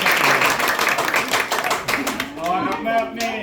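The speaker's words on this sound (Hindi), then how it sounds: "एक बार जोरदार तालियां हो जाए" An audience at a Hindi-language ceremony honouring a doctor bursts into loud clapping that gradually thins and fades, with a speaker's voice emerging as the applause dies down.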